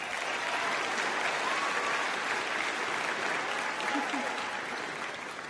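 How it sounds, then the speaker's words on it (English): Sustained applause from a graduation commencement audience for the class of 2024, a dense even wash of many hands clapping that stays steady throughout and eases slightly near the end. "Please, let's give a round of applause."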